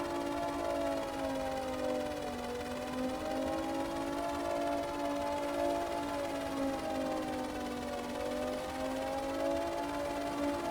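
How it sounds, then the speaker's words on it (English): A steady wailing siren in the video game Stormworks, with slowly rising and falling pitch, continuous and moderately loud, with no voices. "Sorry for that siren. Hopefully it'll go away in a minute."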